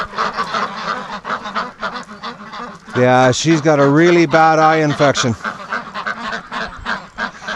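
Breeding ducks let out loud, honking, nasal calls in a burst midway, among them a hen with a bad eye infection, while someone talks over the flock before and after.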